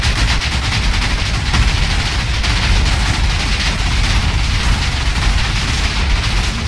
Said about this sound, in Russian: взрыв, да, действительно был такой эпичный и очень длинный